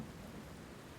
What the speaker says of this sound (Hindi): बाहर तेज़ बादल गरज रहे थे, बरसात हो रही थी।